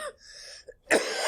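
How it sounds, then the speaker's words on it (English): A single harsh, close cough bursts out near the end during a math lecture, after a brief muffled vocal sound. "here I start coughing"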